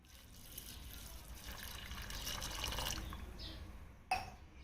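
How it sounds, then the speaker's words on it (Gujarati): Water poured onto grated jaggery in a vessel for malpua, a faint, steady trickle lasting a few seconds in a quiet village kitchen, followed by a brief sharp knock. "ઝીણો ઝીણો જે ગોળ હોય એ કાઢી લઈશું અને તેની અંદર થોડું પાણી એડ કરી લઈશું."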